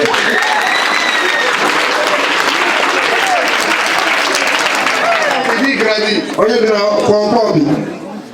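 A church audience applauding and cheering, dense sustained clapping from a crowd with shouts rising near the end, then voices talking over it.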